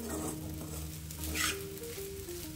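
Cumin seeds sizzle in a pan for sabudana khichdi, a continuous soft crackle with light stirring scrapes, close and steady throughout.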